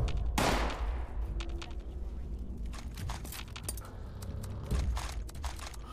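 Gunfire in the video game Fallout 76 crackles through the scene, with one sharp, loud burst near the start, a scatter of quieter rapid shots in between and another burst near the end, all over a low game backdrop.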